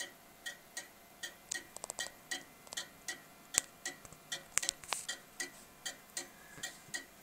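A pendulum clock ticks out of beat, its steady tick-tock pattern uneven, with alternating intervals between strokes. Close, crisp, fairly quiet, with a few faint extra clicks and knocks mixed in.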